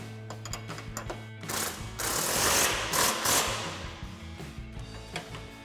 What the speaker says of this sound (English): Now we can go back up to our top mount and tighten that up.